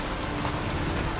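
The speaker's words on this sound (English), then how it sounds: "It's a heavy rain that falls on this city" Heavy rain pours over a city in a video game, a dense, loud, unbroken hiss of falling water that holds steady from start to finish with no voices.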